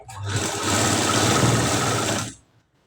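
A sewing machine stitches a katori blouse, running in one steady, loud, continuous whir for about two and a half seconds before cutting off abruptly.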